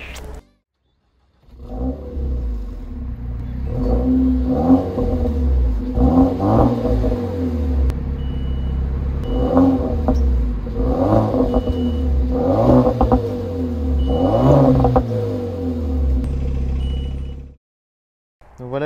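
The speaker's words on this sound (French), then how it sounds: "est-ce qu'on démarrerait pas un peu la voiture histoire que vous entendiez un peu ce que ça donne quand même?" A Renault Mégane 4 RS is started, then revved repeatedly at idle. Its deep, throaty engine swells and drops in a series of rev blips before it shuts off, loud and close with no talk.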